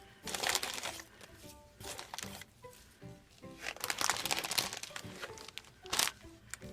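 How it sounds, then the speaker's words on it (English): Crinkle paper rustles and crackles as it is pulled out of a box, in several uneven bursts of crisp crumpling close by. "I'm going to take out some of the crinkle paper so that I can throw that back in once I fix the box."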